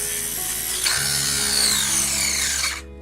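A weak 12V mini drill motor spins at high speed with a steady, thin whine that shifts pitch partway through, then cuts off near the end, with no talk.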